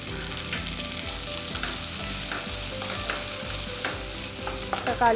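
Onions and chopped tomatoes fry in a pan for a fish curry with a steady sizzle, occasional stirring scrapes and clinks, close up, continuous throughout with no talking.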